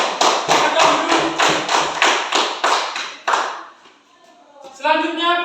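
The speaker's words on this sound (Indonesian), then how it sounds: "tepuk tangan untuk kelompok 1" A classroom of students gives a group a round of applause as a series of nine or so evenly spaced, loud, rhythmic claps that fade out, after which voices begin speaking.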